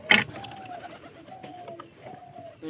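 A village-kept pigeon coos in a series of three drawn-out, soft calls at even spacing, close by, opening with a sharp knock and otherwise quiet around it.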